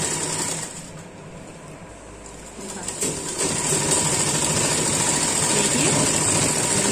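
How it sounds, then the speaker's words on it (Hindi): Sewing machine stitching the side seam of a pair of trousers, a steady mechanical whir running continuously at close range, louder in the second half. "देखिए साइड में सिलाई लगा रही हूँ।"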